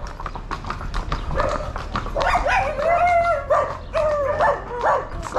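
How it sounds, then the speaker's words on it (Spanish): Several dogs bark and yip on a rural trail in Guatemala during a horseback ride, mixed with steady hoof clip-clop of horses close by. "Those dogs are everywhere."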